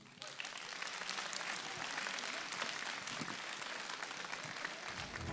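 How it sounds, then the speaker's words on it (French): Applause for the organizers of the Digne sports awards night: a steady, dense wash of crowd clapping, faint and somewhat distant, lasting several seconds. "j'aimerais, avant de commencer, que l'on applaudisse très fort les organisateurs de cette soirée"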